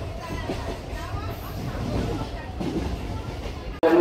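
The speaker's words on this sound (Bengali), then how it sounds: "বগুড়া থেকে ট্রেনে উঠে পড়লাম" A passenger train rolls along after leaving Bogura, a steady low rumble and rattle of the carriage with murmuring voices inside, ending in a sudden louder jolt.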